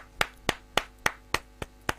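Bawumia clapping at the 2021 parliament budget reading: seven sharp, evenly spaced claps about a quarter second apart, close and distinct over a quiet room with no voices.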